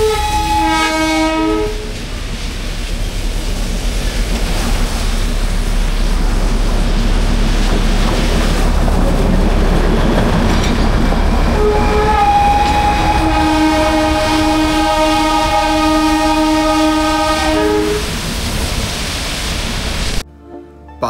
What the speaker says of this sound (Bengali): পাহাড়ের বুক চিরে ছোট্ট একটা ট্রেন ছুটে চলেছে।